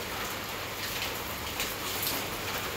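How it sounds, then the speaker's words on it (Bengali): Heavy rain falls outside by a balcony, a steady, even hiss of drops that continues without a break. "আর বাইরে খুব বৃষ্টি পড়ছে, দেখতে পাচ্ছ।"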